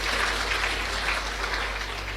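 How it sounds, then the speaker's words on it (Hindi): An audience at a yoga meditation gathering clapping for themselves, a dense, steady wash of applause over a low rumble, sustained throughout. "अभी ताली बजाओ अपने लिए"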